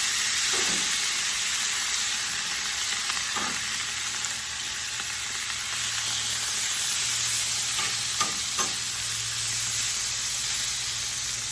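Onions and mushrooms fry on a griddle in a steady, close sizzle that runs the whole time, with a few soft scrapes and taps of a spatula over it.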